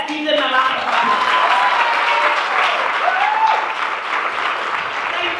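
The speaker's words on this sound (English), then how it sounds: "Let's give them a round of applause." Audience applause at a graduation ceremony, a dense sustained wash of clapping that fills the room for several seconds, with voices calling out over it.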